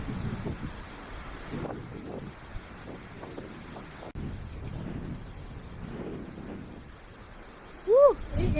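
Strong wind buffets the microphone in gusty rumbling bursts at a lookout above the ocean with surf below, loud and rough throughout, ending with a short high whoop.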